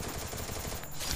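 Thompson submachine gun fire in the Free Fire battle royale game, a dense rattling burst of rapid shots running steadily through the whole moment at moderate loudness, with no talk over it.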